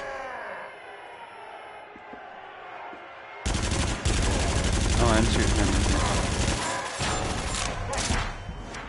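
Dense, loud gunfire in the horror shooter Until Dawn: Rush of Blood, erupting abruptly after a quieter stretch and continuing as a near-constant barrage of shots and impacts, aimed at a barrel, with game music and effects mixed in.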